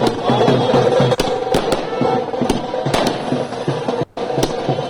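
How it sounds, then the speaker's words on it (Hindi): Firecrackers burst in rapid, loud cracks outside the BJP office in Ranchi during a celebration of the Delhi election victory, sharp irregular pops over a noisy crowd. "पटाखों की तस्वीर एक बार फिर हम दिखाते हैं।"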